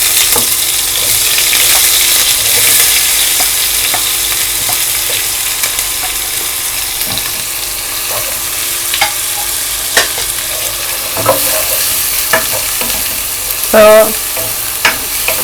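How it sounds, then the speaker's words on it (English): Finely chopped onion fries in a pot for a Nigerian chicken vegetable dish, giving a steady close sizzle broken by occasional spoon scrapes and stirring knocks, with a brief word spoken. "you allow the onion to fry for some time before adding the next ingredients"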